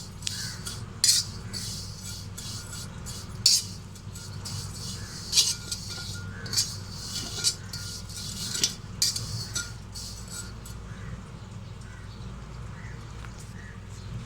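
Vermicelli being stirred in a pan for chicken chowmein gives sparse, quiet metallic scrapes and clinks at irregular intervals over a low background hum.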